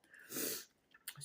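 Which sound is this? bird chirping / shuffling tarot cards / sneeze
sneeze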